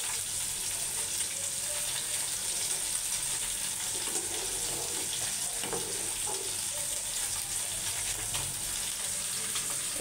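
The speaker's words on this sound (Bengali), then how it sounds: "বাগারটা দিয়ে দিচ্ছি" Baghar tempering of hot oil and spices sizzling into jute leaf dal: a steady, bright hiss of frying that persists throughout, with faint clinks and stirring noises in the middle.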